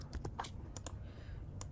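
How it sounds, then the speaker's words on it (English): Keystrokes on a computer keyboard while entering text into a Figma design, a quick burst of light clicks followed by a brief pause and a couple more taps, close and fairly quiet. "Click T on your keyboard and type"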